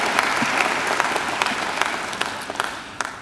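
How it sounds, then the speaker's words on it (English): Enthusiastic audience applause at a university graduation ceremony, dense clapping with distinct individual claps standing out, fading gradually over about three seconds with no talk. "I think Professor Wood deserves another great round of applause."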